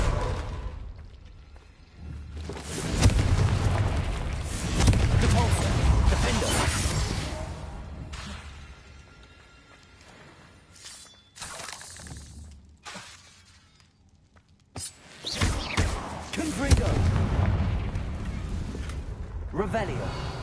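Confringo blasting spells explode repeatedly during a duel in Hogwarts Legacy, loud shattering bursts with whooshes, separated by quieter gaps, with a voice speaking between blasts.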